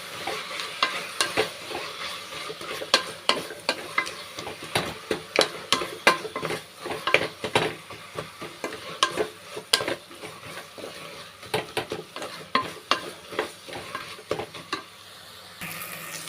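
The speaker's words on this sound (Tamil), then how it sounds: "வெந்தயக்கீரையை வந்து அப்படியே எண்ணெயில் நல்லா வதக்கி விட்டுக்கலாம்" Fenugreek leaves sizzle as they are stir-fried in oil in a pan, with a continuous hiss broken by frequent scraping and clinking of a utensil against the pan, close and steady throughout.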